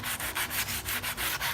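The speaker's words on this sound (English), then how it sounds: "I hand sand the edges to get that little wax" Hand sanding along the edges of a wooden chair gives a rhythmic scratchy rubbing of about nine quick strokes, close and steady, with no talk.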